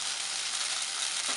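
Glass noodles stir-fried in a wok with cha-om and shrimp, giving a continuous bright sizzle, close and even, with a faint scrape of the utensil near the end and no voices.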